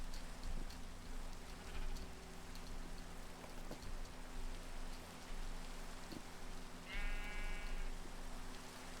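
Sheep bleat in the Minecraft video game, a short wavering cry near the end over a steady rain-like hiss.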